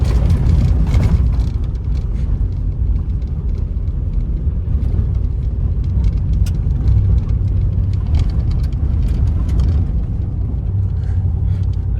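A 2015 RAM 1500 Big Horn pickup rolls over loose rocks and gravel, a steady low rumble of engine and tires with scattered crunching ticks, heard from inside without talk.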